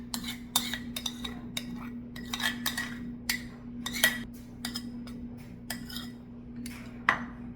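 A utensil scrapes and clinks repeatedly against a bowl while casserole ingredients are mixed, sharp irregular taps over a low steady hum, with no talking.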